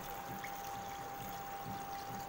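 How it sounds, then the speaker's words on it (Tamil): Steady trickling pour of water into a cooking pot for kuzhambu, continuous and fairly quiet, with a faint constant tone in the background. "தண்ணி ஊற்றிக்கலாம்."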